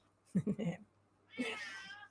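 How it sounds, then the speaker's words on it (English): A talkative kitten meows, giving three quick chirpy calls in a row, then after a brief pause a longer drawn-out meow, fairly soft and close against a low steady hum. "I have a very talkative kitten."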